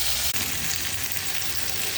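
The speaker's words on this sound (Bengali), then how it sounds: "কড়ার তেল গরম হয়ে গেছে, এবার সবজিগুলো ভেজে নিই।" Potato, pointed gourd and capsicum fry together in hot oil in a wok, giving a dense, even sizzle that carries close and steady throughout without speech.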